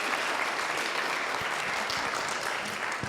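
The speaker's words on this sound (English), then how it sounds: "Let's give a loud applause." Audience applause at a student science project competition, a steady dense wash of clapping from a crowd filling the room, loud and sustained without any speech over it.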